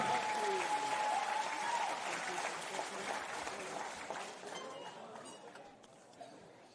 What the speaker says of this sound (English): Give them a big applause too.